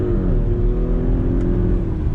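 A 2022 Audi SQ5 crossover launches hard, its engine climbing steadily toward 6,000 RPM in a loud, close, sustained roar with a rising whir and no voices.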